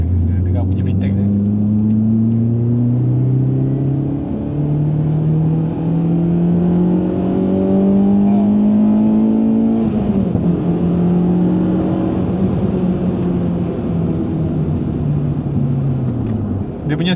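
Honda Accord Euro R engine revving up through its rev range into VTEC, a loud rising tone that climbs, dips at a gear change and rises again, with someone talking over it.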